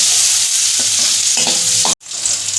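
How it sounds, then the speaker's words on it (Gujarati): Chopped onion and green chillies fry in a pan while being stirred, giving a close, loud, continuous sizzle with scraping strokes. The sizzle drops out for a brief moment near the end, then resumes. "બધું સરસ મિક્સ કરી દઈશું અને એકદમ સરસ હલાવી દઈશું."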